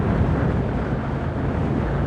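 Continuous, heavy wind rush buffets the microphone while riding a Voge 625R roadster motorcycle at full throttle, a dense, steady roar with no pauses.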